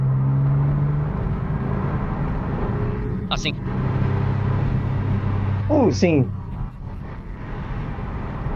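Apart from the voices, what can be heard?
Porsche 996 engine running, heard from outside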